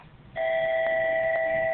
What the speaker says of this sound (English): that's not our bell.